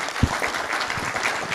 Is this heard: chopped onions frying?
no